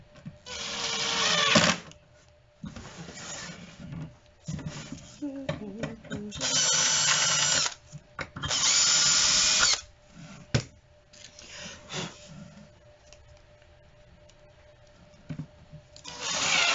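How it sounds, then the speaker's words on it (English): Power drill pre-drilling screw holes in wood for a flat top library build, heard as several close, short bursts of whirring and boring lasting a second or two each, separated by quiet pauses and soft handling clatter. "So I'm going to pre-drill these."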